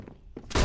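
In a tactical shooter game, a flashbang grenade lands with a couple of soft thumps before bursting into a sudden loud, harsh blast that fills the end of the moment.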